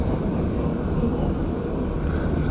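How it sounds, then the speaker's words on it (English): Inside an REM light rail train between Bois-Franc and Anse, a dense, steady grinding rumble fills the car as it rounds a corner, with a voice talking over it. "The sound that the train's making right now is very similar to what the O train in Ottawa makes when it turns corners, that sort of a grinding sound"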